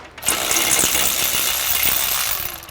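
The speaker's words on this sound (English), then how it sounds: "So now I'm gonna remove these bolts completely." A ratchet or power tool spins off a brake caliper bracket bolt on a Hyundai Elantra, making a short continuous metallic whir of about two seconds, loud and close, with no speech.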